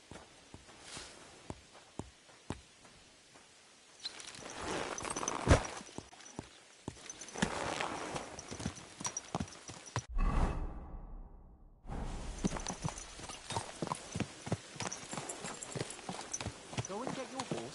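Horse hooves clip-clop at a walking pace in a video game, with a brief whooshing swell midway, while voices talk over the steady rhythmic footfalls.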